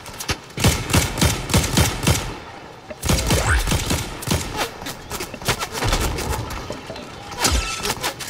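Gunfire in a multiplayer video game, rapid bursts of automatic fire and scattered single shots popping close and loud over several seconds, with some clattering impacts.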